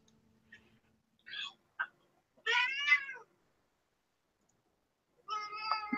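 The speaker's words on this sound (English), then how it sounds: "There's an angry cat on my end." An angry cat gives a series of separate meows and yowls with short pauses between them, the later calls louder and harsher. The cat is close by in a quiet room.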